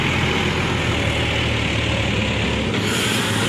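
Heavy dump truck loaded with sand labours up the Kabuh hill in Jombang, its engine drone deep and constant with a steady rumbling idle-like throb, near and loud, with no talking.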